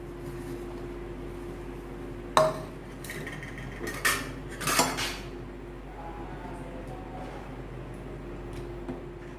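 Potato masala for poori is stirred in a cooking pot, with a few sharp metallic clanks and scrapes of the spoon against the pot over a low steady background hum.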